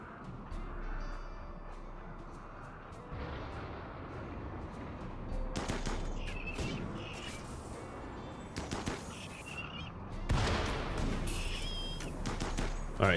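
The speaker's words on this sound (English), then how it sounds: "shoot at my brawlers" Gunfire in the RimWorld video game: scattered sharp shots and bursts come in irregular volleys over a low rumbling background, growing denser toward the end.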